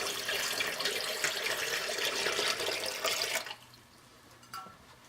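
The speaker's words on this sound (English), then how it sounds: "I'm just going to pour cold water." Cold water is poured into a canning pot while milk is being canned, a steady broadband splashing rush that runs for about three and a half seconds and then stops abruptly, leaving a quiet room with one faint clink.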